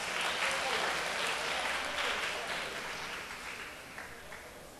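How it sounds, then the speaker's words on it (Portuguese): Church audience claps steadily for a woman during a Sunday-morning Bible study gathering, a dense, sustained round of applause that slowly tapers off, with no talking over it. "Uma salva de palmas para a irmã aqui."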